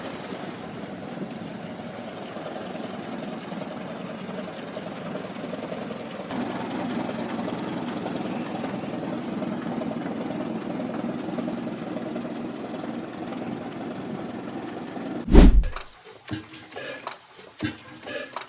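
An antique tractor's four-cylinder gasoline or kerosene engine runs at a steady, even drone for about fifteen seconds. A sharp clunk follows, then quieter scattered knocks.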